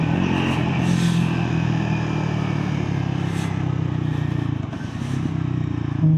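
A Triumph Scrambler 400XC motorcycle on a test ride, its engine holding a steady, close droning hum throughout, with a brief dip in level that could be a gear change.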